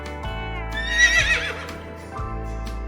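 A horse neighs once, a loud, close whinny rising and wavering for about a second, with faint hoof clip-clop before and after, and no talk over it.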